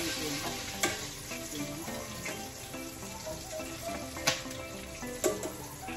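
Food frying in a pan, kept from over-browning, gives a steady close sizzle throughout, with a few sharp clicks and stirring scrapes rising above it and no voices.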